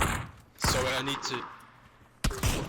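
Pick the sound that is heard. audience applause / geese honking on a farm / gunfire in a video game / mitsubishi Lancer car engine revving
gunfire in a video game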